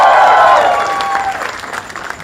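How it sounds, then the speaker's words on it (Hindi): A studio audience at a comedy talent show bursts into loud, dense applause that starts at full strength and fades away over about two seconds, no talking over it. "जोरदार तालियां for रघु भाई।"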